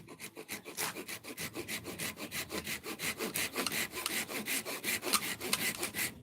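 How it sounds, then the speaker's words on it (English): Knife shaving a thin sliver off resin-rich, pitchy fatwood, a steady run of rapid scraping strokes at close range with no talk. "Might as well just trim off a little sliver."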